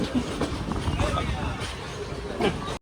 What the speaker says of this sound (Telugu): చూడండి మన ట్రైన్ అయితే ఆ ట్రాక్ మీద వెళ్తుంది